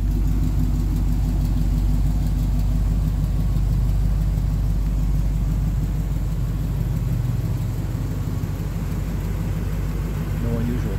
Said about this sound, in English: No unusual noises coming out of the engine compartment.